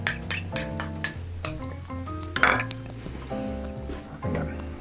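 Spoon scraping and clinking against a bowl as sauce is stirred into mushrooms and walnuts for vegan lettuce cups, a run of sharp utensil knocks and clatters close by, with a sustained musical tone beneath.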